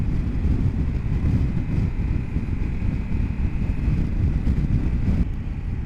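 Steady, loud wind roar buffets the microphone while riding a Triumph Tiger 1200 GT Explorer motorcycle, a dense low rumble that barely changes, with no voices.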